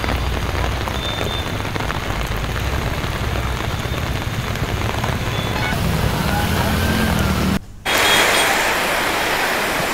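Heavy rain pours down on a street in Hyderabad as a steady, loud roar of drops hitting surfaces, with a brief break near the end before the downpour resumes.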